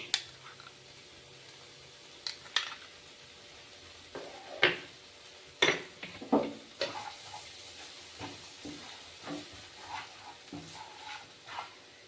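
A spoon scrapes and knocks through poppy seed, green chilli and ginger paste in a pan for a vegetarian brinjal dish, soft sporadic stirring strokes with a faint sizzle underneath, no voices.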